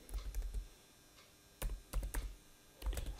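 Field names for an SQL command typed on a computer keyboard, three short bursts of quick close key clicks separated by pauses, nobody speaking.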